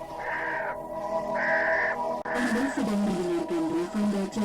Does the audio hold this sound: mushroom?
no